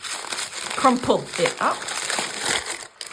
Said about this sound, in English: A thin paper is all you need, and all you have to do is crumple it up.